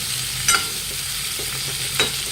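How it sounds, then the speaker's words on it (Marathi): A spoon stirs vegetables in a frying pan while they cook for medu vada. A soft, steady sizzle runs throughout, with two faint scraping strokes and no talking. "यांना पूर्ण मिक्स करून झाकण ठेवून आपण याला शिजू देणार आहोत"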